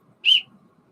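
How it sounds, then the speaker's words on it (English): A single short, shrill whistle blast rings out on a frozen lake during ice fishing, loud and close, then cuts off into near silence. "got my whistle."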